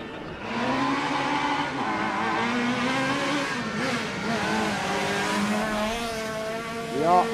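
A Citroen C2 rally car, RC4 class, drives the short Toomemäe city stage in Tartu at Rally Estonia 2016, its engine note rising and falling as it approaches, with a commentator talking over it throughout.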